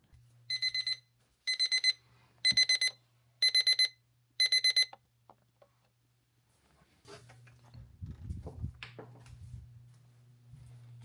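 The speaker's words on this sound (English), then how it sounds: "My alarm was going off." An alarm clock goes off in five quick bursts of rapid beeping, each cluster separated by short pauses, followed by quieter shuffling and background rumble with no talk.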